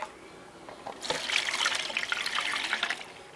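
Water rushes in to flush out a dry creek bed during highbanking, a sudden steady splashing gush that starts after a brief quiet pause and carries on fairly loud to the end.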